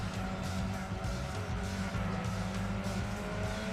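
Toyota Trueno engine in Gran Turismo 2, a steady droning hum with sustained tonal bands, heard continuously at a constant loud level with faint hints of tire squeal and no talking.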